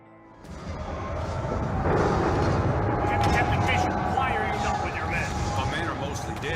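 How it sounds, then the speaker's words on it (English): Continuous rumbling booms of artillery cannon fire in Red Dead Redemption 2 blend into a dense battle din, loud and sustained with layered crashes throughout. "the cannons, their artillery is destroying us"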